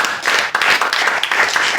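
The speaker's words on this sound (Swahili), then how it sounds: "Mpe Yesu sadaka nzuri ya makofi." A church congregation claps together in a dense, steady burst of applause that stays loud and close throughout, with no clear voices over it.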